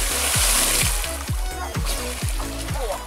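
Repeated rhythmic splashes and sloshing water at a Heide Park Resort water ride, about six regular surges over a steady rushing background, close and fairly loud.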